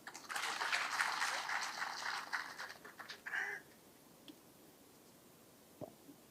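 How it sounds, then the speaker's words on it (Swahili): Audience applause at a Siaya County gathering, a loud burst of clapping for about three and a half seconds that fades quickly, leaving quiet room tone with a few faint knocks. "Na makofi tafadhali"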